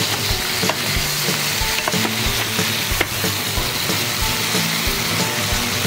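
Sauce stirred in a frying pan while cooking atamalado piurano: constant loud sizzle and crackle with repeated scraping, clattering stirring strokes, close up and without talk.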